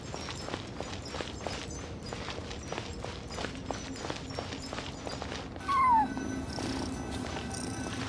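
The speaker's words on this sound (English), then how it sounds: "I followed the cat's cries to" A cat cries in Genshin Impact over a steady run of light, rhythmic footstep ticks and a soft game ambience, with a short, rising mew standing out near the end.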